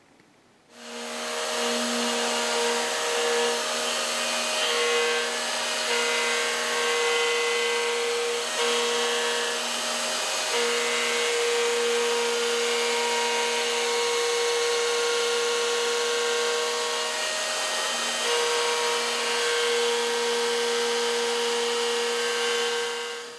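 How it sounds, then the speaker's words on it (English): A wood router cuts out a pickup cavity in a custom bass guitar body, giving a steady, loud, sustained high-pitched motor whine with a grinding bite. It runs continuously for over twenty seconds, close by and alone. "our router on now and just slowly start to go down and just take away all this material here"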